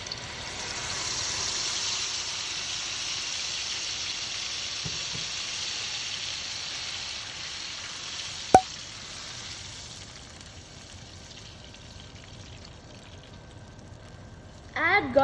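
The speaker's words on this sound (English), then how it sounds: "In the same pan, add whole garam masala. Add the blended mixture." Blended masala mixture and whole garam masala sizzle steadily in a pan while cooking kaleji, a constant hissing fry that fades slightly, with a brief clink partway through.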